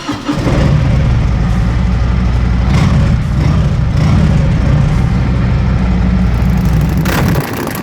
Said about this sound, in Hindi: ये हमारे पास एक इस वक्त 2018 की फैट बॉय खड़ी हुई है